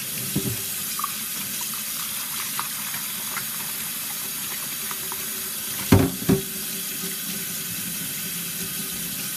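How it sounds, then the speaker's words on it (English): Tap water runs steadily into a sink while soap is drained from makeup brushes, a soft, continuous hiss with a couple of louder splashes or knocks near the middle. "And then I'm going to run the water, drain all that soap out of there."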